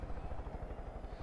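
Helicopter in the video game Far Cry 5: a steady, close rotor thumping with a dense low rumble, continuous throughout the brief moment.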